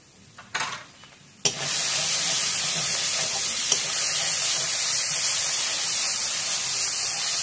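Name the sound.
potatoes and eggs sautéing in pan with turmeric and salt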